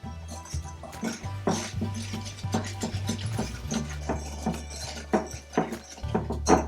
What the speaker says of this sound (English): 1/2 cup or 1 stick of melted butter and 1 cup of sugar into a large mixing bowl. Whisk these together for about a minute.